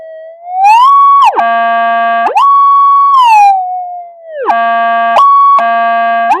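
A Minelab GPX metal detector responds to a ring target with loud electronic tones, each a smooth rising-falling sweep followed by a flat buzzing plateau, repeating in a double pattern with nobody speaking.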